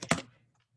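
A single Enter key press on a computer keyboard: one sharp, close click with a short bright attack that fades quickly into near silence, heard alone.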